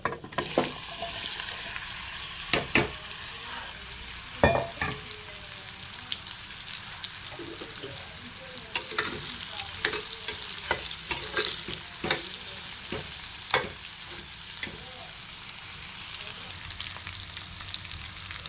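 Raw banana pieces fry with chilli powder in a kadai, giving a continuous close sizzle broken by frequent sharp scraping and clinking strokes of a stirring spoon, with no talking.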